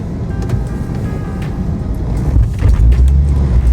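A manual Ford BA Mk2 XR6 Turbo with a dead battery is roll-started downhill, a low rumble of rolling tyres swelling into a louder, deeper engine catch near the end, heard from inside the car.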